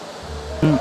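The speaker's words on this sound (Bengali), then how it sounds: "দেখুন কি সুবিশাল ঝর্ণা এটি" A large waterfall in the Bandarban hills pours a heavy flow of clear, cold water, giving a steady broadband rush for under a second, with a brief voice-like tone near the end.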